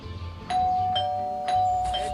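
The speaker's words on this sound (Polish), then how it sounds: "Ding dong, działa, dzwonek działa" In the Scary Teacher video game, a doorbell rings out as two clear, loud electronic ding-dong chimes in quick succession.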